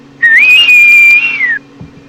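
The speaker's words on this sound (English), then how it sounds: "You hear a whistle that" A single sustained whistle sound effect sounds loud and close, holding a steady tone for over a second before gliding down and stopping, with a low background hum.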